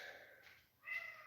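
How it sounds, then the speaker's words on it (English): Indoor house cat meowing, two short faint meows with a brief pause between them, heard alone without talk. "What are you meowing about?"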